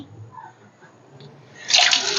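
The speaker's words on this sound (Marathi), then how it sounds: "आणि त्याच्यामध्ये थोडंसं असं पाणी भरायचं बारीक ठेवून" Water running into an emptied Dettol handwash refill pouch, a quiet start building to a louder gush of pouring water near the end.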